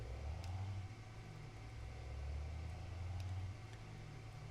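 An 800 horsepower Cummins truck engine from American Truck Simulator, fitted with a Z-Mod sound pack, drones at a steady low rumble that stays even and fairly quiet, with no talking.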